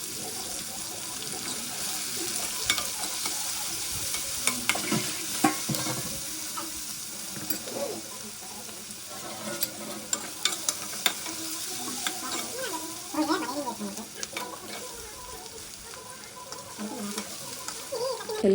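Onions and curry leaves frying in a pan for Andhra fish curry, a steady soft sizzle with intermittent stirring scrapes and clinks running throughout, fairly close and without speech.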